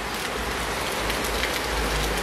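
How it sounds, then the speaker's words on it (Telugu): Rain falls steadily in a village near Paderu, a dense, even hiss of drops striking surfaces that continues throughout, close and fairly loud, with no voices. "వర్షం పడుతుంది"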